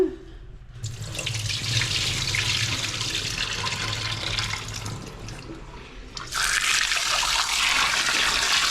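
Tap water runs steadily into a sink while small tilapia fish are washed by hand, a close, continuous rushing splash that dips briefly before surging louder again.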